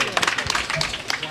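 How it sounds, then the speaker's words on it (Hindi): Close, sharp hand claps from an audience at a Bundelkhand folk gathering, quick uneven bursts of clapping with voices in the background. "तालियां बजती रहनी चाहिए"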